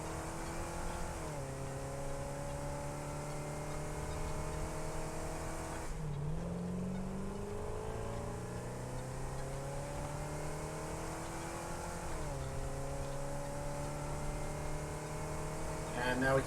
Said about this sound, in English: I haven't really driven this vehicle around much anymore, so hopefully I won't immediately drive it off a cliff